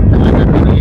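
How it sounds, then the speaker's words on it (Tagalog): Strong wind by a river buffets the microphone, a loud, continuous low roar with no breaks. "Sobrang lakas ng hangin."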